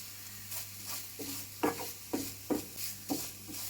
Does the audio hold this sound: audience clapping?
no